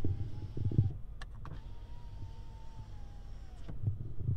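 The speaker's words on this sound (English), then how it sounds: "this right here will control that sliding rear window" Power sliding rear window on a 2019 GMC Sierra 1500 4WD Crew Cab Elevation pickup, a steady electric motor whine running for a few seconds, bracketed by soft clicks and thumps inside the cab, close and fairly quiet.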